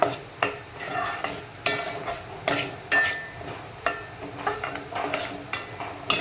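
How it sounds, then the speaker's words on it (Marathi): A spoon scrapes and stirs ground masala paste through crab curry in a pot, repeated rhythmic scraping strokes with a soft sizzle beneath, close and fairly loud, no voices. "हे आपण यामध्ये चांगल्या प्रकारे मिक्स करून घेऊया"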